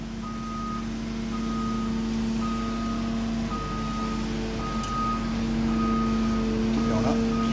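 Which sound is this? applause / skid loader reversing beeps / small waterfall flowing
skid loader reversing beeps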